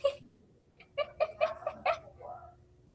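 Vietnamese dragon chickens clucking close by, a quick run of about five sharp clucks in a burst, with softer calls before and after.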